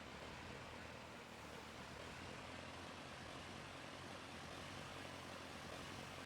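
A crop dusting propeller plane in Farming Simulator 22 roars steadily on the runway as it prepares for takeoff, a loud continuous engine drone with no pauses across the whole stretch.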